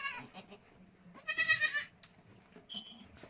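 Newborn goat kids in a barn give a short, high, wavering bleat that rises clearly over quiet background noise, followed by a fainter thin cry moments later.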